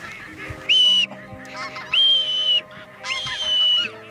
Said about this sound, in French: 3 pluviers.